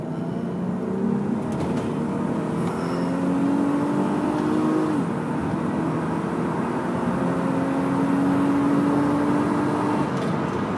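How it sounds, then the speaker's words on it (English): A Mitsubishi Galant VR4 pulling hard in second gear, its engine note climbing steadily and loudly over road and cabin noise for several seconds, with no one speaking. "So if I select second, and then you can see the acceleration of this car"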